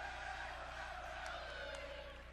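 A crowd roars steadily at a volleyball match in an arena, with a sustained, dense cheer that slowly fades near the end.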